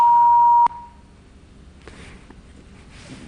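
A loud, steady electronic tone sounds for about half a second, then cuts off abruptly, leaving a quiet line hiss with faint noises.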